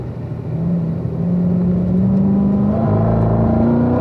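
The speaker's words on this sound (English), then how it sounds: "everybody's dropping back down a gear for turn 4 right here" Race car engine through turn 4 on a track, a steady loud drone whose pitch rises gradually, then drops and climbs again as a downshift comes through, with a deep low rumble underneath and no voices.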